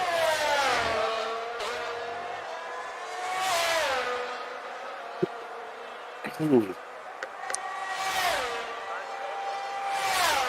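Race car engine in an Austrian Grand Prix sim racing league game, revving up and down through gear changes as it laps, with a few sharp clicks and a brief tire-squeal burst midway.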